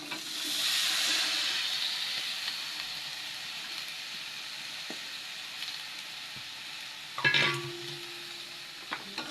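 Vegetables stirred and fried in a pan for a dried fish curry: a soft hiss of sizzling oil swells early and fades, with occasional faint scrapes and a louder clatter of stirring later on.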